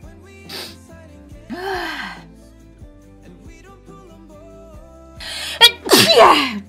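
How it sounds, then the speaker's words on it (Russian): A woman sneezes several times while playing United Penguin Kingdom: Huddle Up, with sharp gasping intakes and explosive bursts, the loudest pair close together at the end, over quiet game music. "Опять чихать начала."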